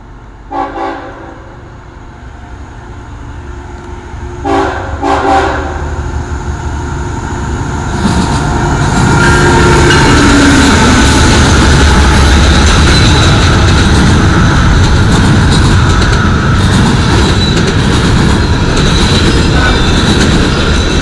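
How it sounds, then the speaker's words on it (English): Double-stack freight train approaches with a few short horn toots, then thunders past close and loud in a sustained roar of rolling cars and rail noise. "Ooh, it's a double stack."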